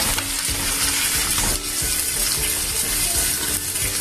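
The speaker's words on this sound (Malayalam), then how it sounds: "എണ്ണയിൽ ഇങ്ങനെ കിടന്ന് ഫ്രൈ ആവുന്നുണ്ട്." Beef frying in hot coconut oil with curry leaves for a Kerala-style beef fry, a loud steady sizzle with stirring scrapes and bubbling throughout, no talking.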